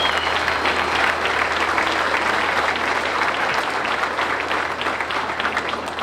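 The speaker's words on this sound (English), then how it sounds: "Let's give them a big round of applause." Big round of applause from the crowd at a campaign kickoff event, loud continuous clapping filling the whole stretch without letting up.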